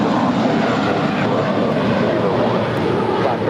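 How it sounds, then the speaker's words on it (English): A five-year-old JetBlue Airways Airbus A321 departs LAX, its engine noise a loud, dense, steady rumble over the short stretch, with a voice faintly present underneath. "It's a 5-year-old Airbus A321."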